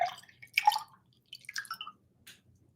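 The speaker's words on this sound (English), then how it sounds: "And I'm gonna drink some water here." Someone drinks water close to the microphone: four short, wet bursts of sipping and swallowing separated by brief silences, with no talking.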